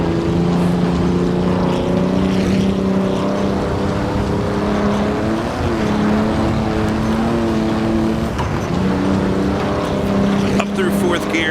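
A 1937 Grand Prix race car at Donington in the Assetto Corsa racing game, its engine droning steadily and loud as it accelerates, pitch rising and falling through the gears with a shift near the end, with talk over it.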